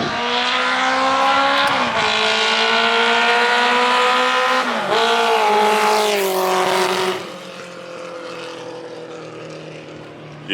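Motorbike engine roaring close by at high revs, the pitch shifting up and down as it rides past, then dropping to a lower, quieter drone as it moves away.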